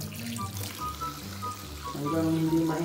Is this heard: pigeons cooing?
no